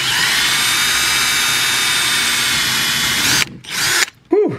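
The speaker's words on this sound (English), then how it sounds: "drill it a little pilot hole with the drill" A power drill drills a pilot hole for mounting a car audio speaker, whining steadily at close range for several seconds, then cuts off, followed by a short burst and a brief rising-falling spin.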